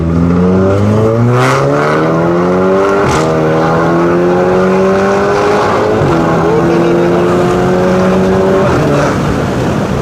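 Stage 3 tuned car engine revving hard through repeated rising acceleration pulls with gear changes, loud and close from inside the car, the engine note climbing steadily through each gear.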